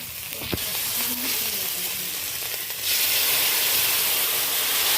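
Ginger paste sizzles in hot oil in a pan, a steady frying hiss with occasional spatula scrapes, growing louder and brighter partway through as it is stirred.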